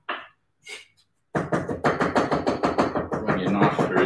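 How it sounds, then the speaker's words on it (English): A knife chops chili on a cutting board for a dressing, a few isolated taps followed by a fast, even run of close, crisp chopping strokes. "I'm just chopping up another chili."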